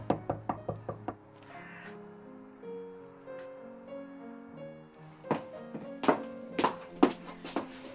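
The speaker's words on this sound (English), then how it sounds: "Daniel does just that and knocks on their doorbell." A series of about six sharp knocks on a door, close and loud, followed by musical tones and then several more heavy knocks with no talk.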